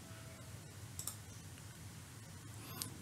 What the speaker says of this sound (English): and then click on choose